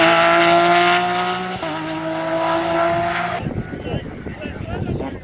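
A Porsche 911 race car at a hill climb race screams past with a loud, sustained engine note that drops in pitch as it passes, then gives way to rougher roar and crowd ambience.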